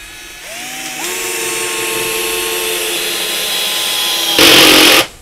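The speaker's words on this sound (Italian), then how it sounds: "proviamo ad avvitare questa vite a velocità 1" A Topshak TS-ED3 30Nm cordless drill drives a screw at speed 1 with the clutch at 20. The motor whirs up, steps up in pitch and holds a steady whine, then a loud burst of clutch ratcheting cuts off near the end.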